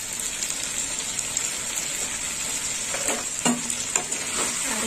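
Prawn and vegetable curry being stirred and fried in a pan, a steady close sizzle with intermittent scraping stirs toward the end, no voices.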